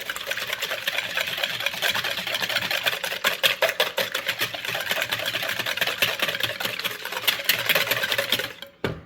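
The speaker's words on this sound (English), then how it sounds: "I'm going to go ahead and whisk that together." Eggs and a cup of milk being whisked in a bowl for baked rice pudding, a steady rapid clatter of whisk strokes that runs without a break at close range and cuts off abruptly at the end.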